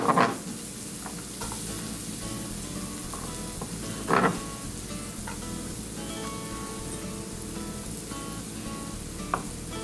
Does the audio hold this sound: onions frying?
yes